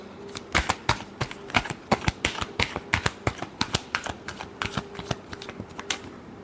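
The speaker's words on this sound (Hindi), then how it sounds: "Last shuffle." Tarot cards being shuffled by hand, a quick run of crisp riffling snaps and slaps in an uneven rhythm, close and alone.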